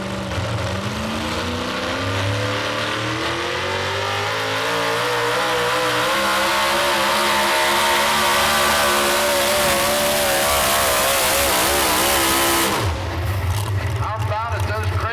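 A Supernatural Chevy pulling truck roars at full throttle during a truck and tractor pull, its loud engine climbing and wavering in pitch for about thirteen seconds before cutting off abruptly, with rumbling and crowd noise after.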